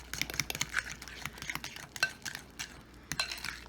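A utensil stirs egg yolks with mayonnaise for a pesto deviled egg filling, making soft scraping and irregular light clicks against the bowl, close and quiet.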